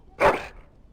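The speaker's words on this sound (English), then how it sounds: "That is a wonderful dog." A dog in the Dragon Age: Origins video game gives a single loud, close bark that fades quickly into quiet.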